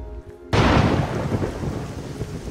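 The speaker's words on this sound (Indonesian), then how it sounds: "Walau malamnya Elsa diguyur hujan" Night rain and thunder in a French special forces film, a sudden loud thunderclap breaking over a quiet moment and then a steady heavy downpour.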